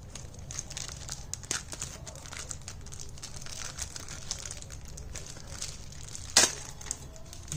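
Crinkling of Beyblade sticker sheets for a Metal Dranzer top being handled close up, soft irregular rustles and crackles with a low background hum and one sharper crisp crinkle near the end.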